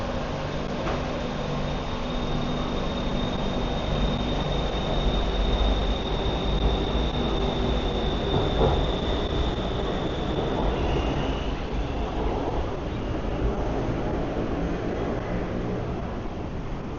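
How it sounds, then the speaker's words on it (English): A train rumbles past in Bangkok, a loud, sustained roar of wheels and carriages with a faint high squeal partway through, close by and without talk. "see this train."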